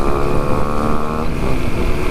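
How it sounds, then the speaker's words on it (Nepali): An off-road dirt bike is ridden on a trail, its engine droning loudly and steadily with a wavering pitch that drops slightly partway through, nearby and without talk. "उत्सवले कुदाएको हेर तिम्रो बाइक।"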